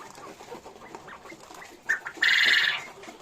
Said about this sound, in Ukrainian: ось наші перепелки